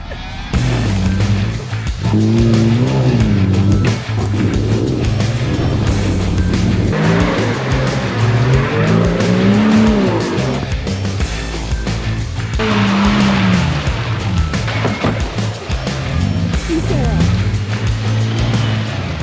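A Toyota 80 series or GU Patrol 4WD starts and drives on steep off-road terrain. The engine revs loudly and continuously, rising and falling in pitch as it climbs, close to the listener.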